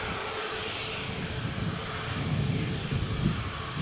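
Ryanair jet departing Malaga Airport on runway 13 on a stormy morning, a steady broad engine roar that swells slightly toward the end, continuous and moderately loud with no talk.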